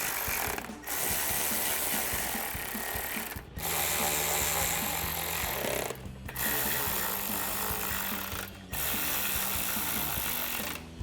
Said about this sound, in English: So I'll take a 7mm socket for these and switch to an 8 for the inner one.